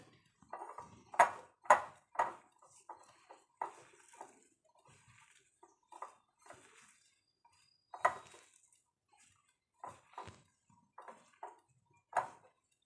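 Oats pakoda batter mixed with maida being stirred in a bowl, a series of close, intermittent wet scrapes and soft clinks of a spoon against the bowl, irregular strokes in an otherwise quiet kitchen.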